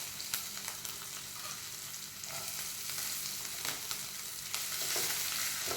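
Garlic, ginger and chopped green chili sizzle steadily in hot oil, a continuous crackling fry with occasional louder pops and faint stirring, no voices.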